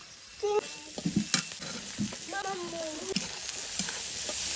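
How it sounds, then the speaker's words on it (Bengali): Chopped capsicum and sweet corn sizzling in a hot pan, a steady crackling hiss with scattered stirring knocks and a brief voice partway through. "এবার দিয়ে দিচ্ছি আমি কেটে রাখা ক্যাপসিকাম আর সুইট কর্ন"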